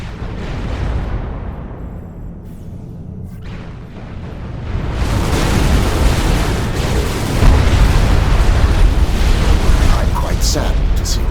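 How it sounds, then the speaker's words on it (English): Megalith units in the strategy game Supreme Commander 2 blowing apart: dense, rumbling booms that start moderate, then swell into a loud, sustained roar of overlapping blasts through the second half. "Saddened to see that my megaliths have been destroyed. Though, I have to admit, that their explosions were quite spectacular."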